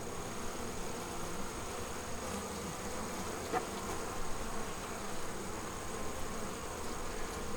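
Bees swarm around an open beehive during a queen installation, their buzzing a steady, continuous drone close by with no talking.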